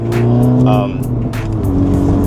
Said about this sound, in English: I don't know how much sound of the exhaust is gonna be coming through in the cabin, but it is definitely louder than stock.